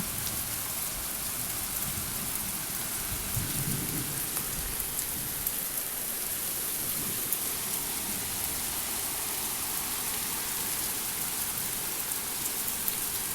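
Steady rain pours continuously, a dense hiss of drops on surfaces, with no voices and no distinct thunder.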